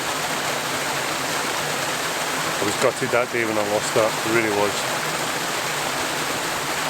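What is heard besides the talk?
small waterfall on a trail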